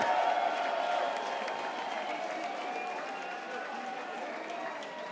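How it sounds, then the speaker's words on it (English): Crowd applause and cheering for fighters at an EllisMania combat event, a loud, sustained burst of clapping from the audience that gradually tapers off slightly. "A round of applause for Simon Woodstock."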